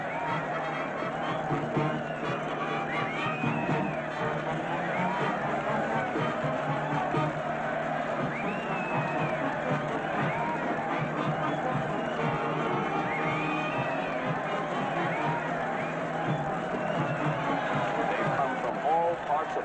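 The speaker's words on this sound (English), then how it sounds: "And look at that mob waving and cheering." Mob of people waving and cheering to welcome long-lost castaways in Hawaii, a steady distant crowd roar with scattered shouts and whistles, heard under a narrator's voice.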